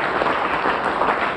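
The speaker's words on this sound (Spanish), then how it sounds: "Un aplauso, pues." A crowd applauds at a hospital inauguration in Petare, a dense, steady wash of clapping that stays loud for the whole moment.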